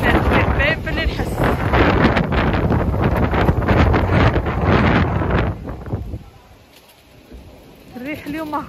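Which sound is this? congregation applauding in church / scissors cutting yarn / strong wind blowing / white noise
strong wind blowing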